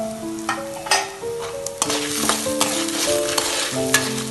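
Dried red chilies, small onions and curry leaves sizzle in hot oil while a spoon scrapes and stirs the pan in quick, irregular strokes.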